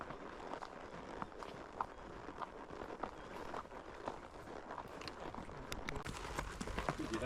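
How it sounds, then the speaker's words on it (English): Hooves of young horses clip-clop on a trail ride, a soft, continuous walking rhythm over a steady outdoor background, fairly faint and unbroken. "Especially since they're just young horses as well."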